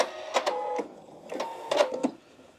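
A sewing machine stitches quilt binding folded an inch under, catching both sides. It gives quiet, uneven runs of rapid mechanical chatter with brief pauses, close by.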